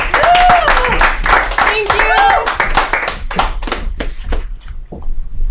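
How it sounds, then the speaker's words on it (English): A comedy club audience breaks into loud, sustained applause and clapping for a comedian, with a voice briefly speaking over the opening moments before the clapping thins out toward the end. "Give a round of applause for Ashley Lusk."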